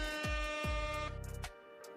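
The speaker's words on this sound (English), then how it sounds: "I think we should probably get another couple air horns." A loud air horn sound effect blasts in short repeated honks, a few sharp bursts followed by a sustained tone, played over a trading livestream with no talk.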